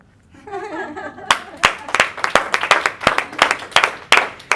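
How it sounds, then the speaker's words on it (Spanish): A small group claps in a church service after a brief voice, with sharp, uneven hand claps close by that come in a quick, irregular run. "aplauso para Cristo"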